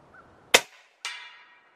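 Snowpeak M60B .357 air rifle firing at a target 65 yards away: a sharp, close report, then about half a second later a fainter distant ringing impact.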